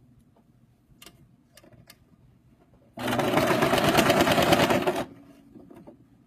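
A domestic sewing machine runs a short burst of back stitching, a fast steady mechanical chatter lasting about two seconds, loud and close, with quiet handling sounds before and after.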